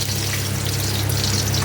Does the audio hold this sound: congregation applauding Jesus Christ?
no